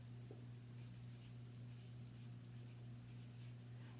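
Soft scratching of a pen or marker writing on paper for a heart map, faint intermittent strokes over a steady low electrical hum.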